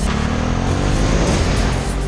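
The stock exhaust of a 2018 Ducati SuperSport S motorcycle gives a loud, continuous engine note heard up close, a steady throaty drone without any talking.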